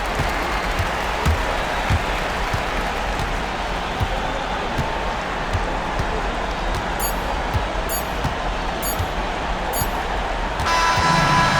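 Home crowd noise in an NBA 2K26 basketball game, a steady arena roar with faint court thuds and squeaks, rising slightly near the end.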